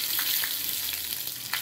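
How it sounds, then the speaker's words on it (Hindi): Green chillies sizzle in hot oil for a kadhi tadka with cumin, red chilli and asafoetida, a steady close frying hiss with small pops and crackles, alone with no talk. "ये तड़का के लिए थोड़ा सा ऑयल लेंगे, जीरा डालेंगे, लाल मिर्च डालेंगे"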